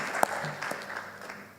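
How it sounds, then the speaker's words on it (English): A conference plenary audience applauds a leadership mission chairman in a brief, thin round of clapping with a few sharp individual claps that fades within moments. "Let's give him a round of applause."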